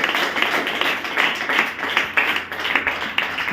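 An audience claps in steady, dense rhythm, a continuous mass of hand claps close and fairly loud with no talking over it.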